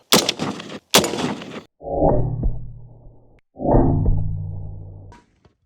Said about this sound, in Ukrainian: Зараз спробуємо бойові набої. Перший набій у нас трасер, а другий грінтіп.